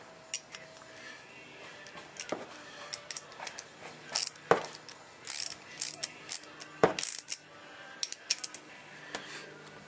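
A wrench tightens a nut on a kill switch for a Cub Cadet pulling tractor, making faint, scattered ratcheting clicks and small metallic taps over about ten seconds.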